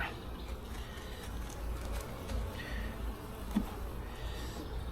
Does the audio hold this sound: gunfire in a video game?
no